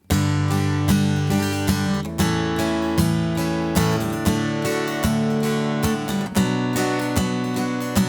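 Steady, driving guitar strumming with full ringing chords, played at a lively tempo with a continuous rhythmic pulse and no talking.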